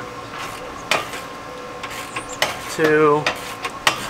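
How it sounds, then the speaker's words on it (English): A car engine with its spark plugs out is turned over by hand at the crank bolt, giving a few soft mechanical clicks and a ratcheting whir. A voice briefly counts over it. "we're gonna spin the motor by hand, like three, four rotations, and double check our tension"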